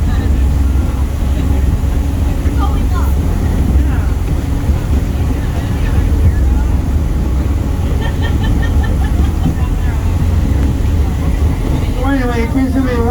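Boat's 650 horsepower John Deere engine running, a steady deep low drone filling the background throughout, with faint voices over it.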